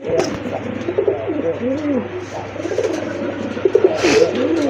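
A pair of red khaki pigeons cooing close by, repeated soft throaty coos rolling one after another over a low steady hum, with a brief brighter rustle near the end.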